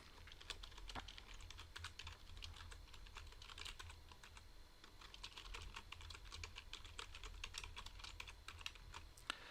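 Steady keystrokes on a computer keyboard as a prompt is typed in, a fast irregular clatter of close, crisp clicks running throughout with no speech.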